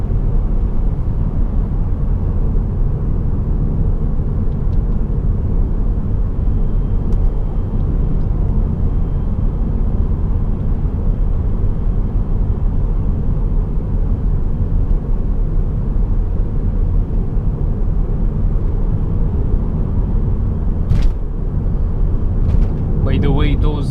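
Steady low road rumble from a 2005 Mercedes-Benz CLK 320 W209 on 19-inch wheels, a continuous drone of engine and tire noise while driving, with no obvious surge and a few brief clicks near the end.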